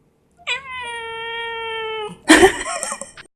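A cat lets out a long, steady, drawn-out meow, then a shorter, rougher yowl after a brief pause, close and loud with no talking.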